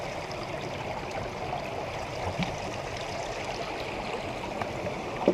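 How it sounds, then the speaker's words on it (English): A spring stream flows steadily down through a deep rock gorge, a continuous close rushing wash of water with no voices over it. "water coming down through here, this spring has cut about a 40-foot deep gorge through here"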